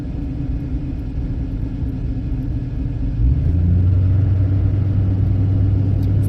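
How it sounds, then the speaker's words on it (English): Cars pass on a road near a transport RV, giving a low rumbling traffic drone that grows louder partway through as a deeper engine hum moves in close. No one speaks. "we got cars coming by trying to squeeze in"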